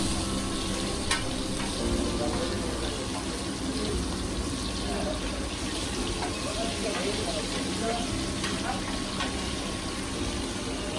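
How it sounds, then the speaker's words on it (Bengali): Hilsa fish, freshly cut, washed and cleaned, frying in a pan at a riverside picnic, with a steady, even sizzle that holds at close range for the whole stretch and no clear voices over it. "এই ইলিশ মাছটি কাটার পর ধুয়ে পরিষ্কার করে তারপরে ভাজা হচ্ছে"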